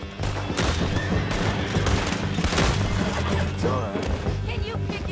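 Gunfire during a roadside shootout in Red Dead Redemption 2, a loud continuous volley of shots and impacts with crashing sounds, packed tightly across the whole stretch.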